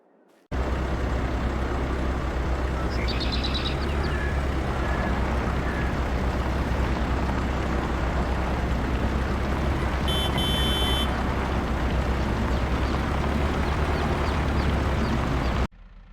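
A Massey Ferguson tractor in a farming video game drones with a steady, loud low engine rumble that starts abruptly, runs unbroken for about fifteen seconds with brief electronic beeping midway, then cuts off.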